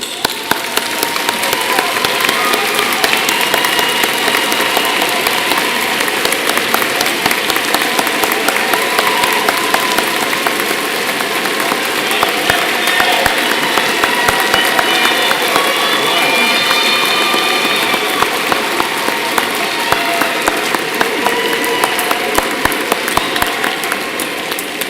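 A graduation audience at the Winthrop University December 2021 commencement applauding, a dense sustained roar of many hands clapping that holds steady for the full stretch, loud and unbroken, with no voices standing out.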